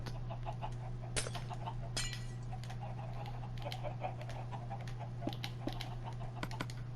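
Chickens cluck on a video game chicken farm with a lava cooking mechanism, producing scattered faint clucks and clicky ticks over a steady low hum.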